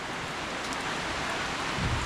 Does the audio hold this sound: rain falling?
yes